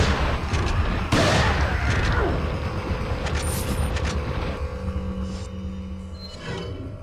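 Gunfire and heavy booms from the Resident Evil 4 video game burst loudly at the start, then fade into a rumbling, quieter stretch with scattered game effects.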